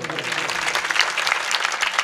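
Loud, dense applause from an audience at a village kirtan gathering, a sustained clatter of many hands close by with no pause.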